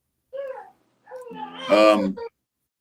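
A house cat meows in two drawn-out, rising-and-falling calls followed by a louder, longer meow, close to the microphone, during a casual livestream about a Raiders vs Chiefs football game.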